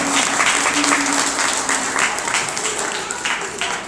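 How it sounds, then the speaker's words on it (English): Visitors at an aquarium stingray feeding area applaud in a steady wash of clapping, with a low hum and faint voices underneath. "just want to give him a big round of applause for hopping into the tank for us today"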